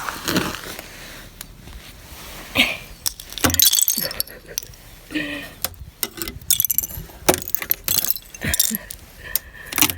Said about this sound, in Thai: หักเป็นแท่งๆเลย น้ำแข็ง